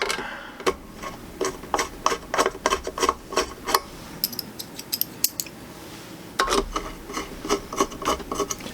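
M4 machine screws being tightened on a transformer: a series of close, sharp ratcheting clicks and short scraping bursts in uneven groups, with brief pauses between them and no talk.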